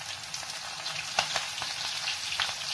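Mustard seeds, asafoetida and chopped green chillies fry in hot oil with a continuous close sizzle and scattered sharp crackles and pops.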